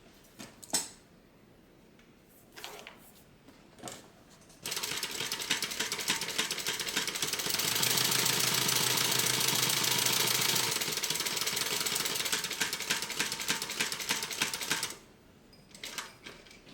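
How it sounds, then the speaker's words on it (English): A sewing machine stitches the outside edge of a tote bag, running in a loud steady rapid mechanical chatter for about ten seconds after a few light handling clicks, then stopping. "So we are going to go ahead and stitch on the outside edge."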